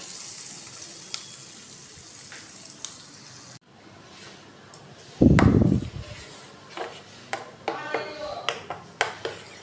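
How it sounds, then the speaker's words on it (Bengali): A hot tempering of mustard seeds, curry leaves and chilli is poured into chutney, giving a sudden loud sizzling burst midway that fades into scattered crackles and small clinks in a quiet kitchen. "এর মধ্যে তড়কা দিয়ে দেব"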